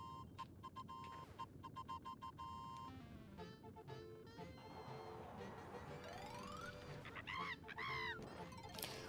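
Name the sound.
birdlike character voice in video game Super Mario 3D World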